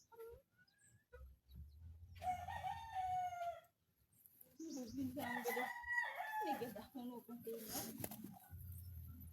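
Wild rooster crowing in the Philippine countryside, two drawn-out crows close to the microphone, with someone talking in between and low background noise.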